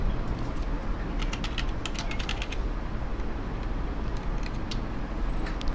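Someone types a web address on a computer keyboard, with quick irregular bursts of light key clicks over a steady low background hum. Nobody speaks.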